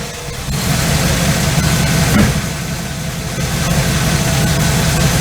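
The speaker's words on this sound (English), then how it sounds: "we're going to start it back up and at idle with the engine warm, see what the vacuum is" A warm car engine fitted with an Edelbrock carburetor idles steadily and close by, a low continuous rumble with no talking over it.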